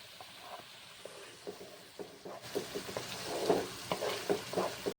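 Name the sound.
spice masala with tomato paste sizzling as it is sautéed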